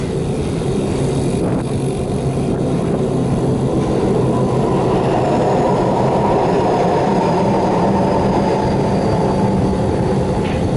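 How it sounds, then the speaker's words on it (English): A train rolls past with a continuous loud rumble and clatter, steady and close throughout, no voices. "Train there too."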